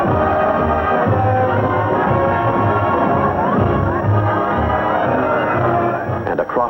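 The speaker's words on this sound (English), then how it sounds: "cheering crowds roar a mighty welcome, shared by all Americans" Cheering crowds roar a welcome to astronaut John Glenn at a New York ticker tape parade, a dense, loud, continuous wash of crowd noise on an old newsreel recording.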